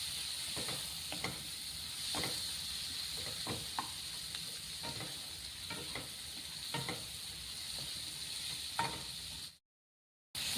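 Onion, garlic and ginger fry in butter in a pan for restaurant-style paneer butter masala, a steady close sizzle with occasional stirring clicks, then a brief silence near the end.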